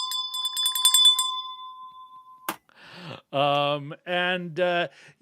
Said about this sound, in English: ringy-ding that bell